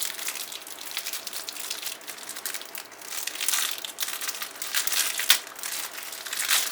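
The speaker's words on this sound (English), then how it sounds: "It's a lot of crinkling paper." Paper packaging of a Magic: The Gathering Oath of the Gatewatch fat pack crinkles and crunches up close, a steady run of rustling with louder crumpling bursts midway and one sharp crackle near the end.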